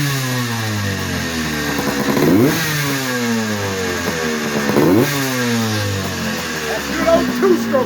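A rare 40-year-old Murray Mini Motors two-stroke dirt bike engine runs close by, its buzzy note rising and falling through several revs before settling back to a rough idle.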